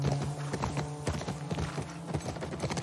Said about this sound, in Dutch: Oh, paardje heeft een beetje moeite.